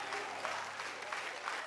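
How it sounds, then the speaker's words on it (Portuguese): A studio audience on the Caldeirão TV show applauds a singer after she performs a song, a continuous, fairly quiet wash of clapping heard from a distance. "pode aplaudir, gente"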